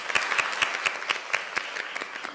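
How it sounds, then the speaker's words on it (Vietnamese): A studio audience at a Vietnamese children's TV show applauds, with many hands clapping in a fast, even rhythm that sounds bright, sustained and moderately close. "không biết là vì sao mọi người vỗ tay cho mình"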